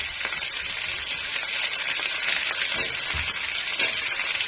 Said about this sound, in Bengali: আলু ফুলকপি একসাথেই ভাজবো